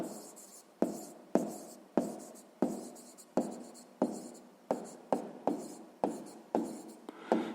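A pen writes by hand on paper during a math exercise, with about a dozen sharp scratchy strokes coming in quick uneven bursts, close and clear with no talk.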